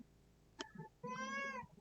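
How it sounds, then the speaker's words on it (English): A pet cat meows indoors, a short chirp followed by a longer, drawn-out meow, quiet and close against a hushed room. "And that's my cat."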